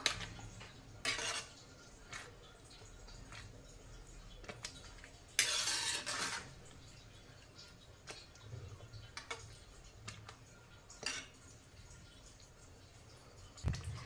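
A spoon stirring coriander into pav bhaji in a pan gives faint, sporadic clinks and scrapes against the metal, with a couple of brighter knocks and a quiet background between them.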